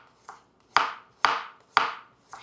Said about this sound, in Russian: и сюда же мы нарежем имбирь